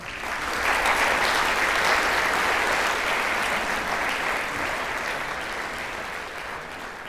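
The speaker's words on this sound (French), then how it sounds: "Et je vous propose d'applaudir Kader Attia." Audience applause for artist Kader Attia during a lecture at the Louvre: dense, sustained clapping from a large crowd in a hall, steady and loud for about seven seconds with a slight taper at the end.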